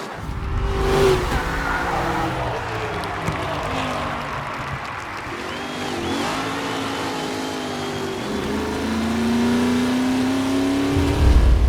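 Race cars accelerating in the video game Mafia Definitive Edition, engines revving and rising in pitch up close, with tire squeal and skidding mixed into a steady, loud roar.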